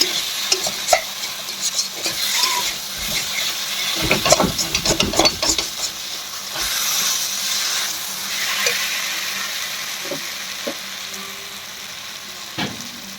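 Taro stolon curry being stirred in a frying pan near the end of cooking, loud close sizzling with repeated spatula scrapes and clatters against the pan, a busier burst midway, no voices.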